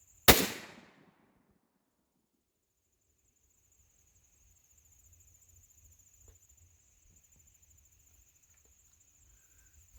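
A single sharp rifle shot from a Ruger American Ranch 300 Blackout cracks loudly at the start and decays quickly outdoors. Faint insect chirping and low background rumble follow.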